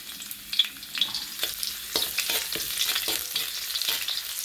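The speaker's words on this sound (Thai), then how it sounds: "น้ำมันร้อนใส่กระเทียมนะครับ" Garlic fries in hot oil in a pan for a Thai frog salad, giving a steady, close sizzle broken by scraping stirring sounds, with no speech over it.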